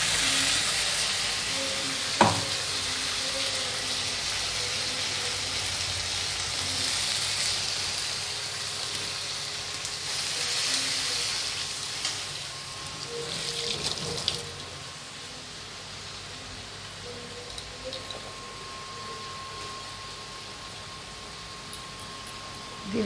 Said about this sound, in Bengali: এরপরে যে আমি টমেটো কাঁচা লঙ্কার পেস্ট বানিয়েছি সেটা দিয়ে দিচ্ছি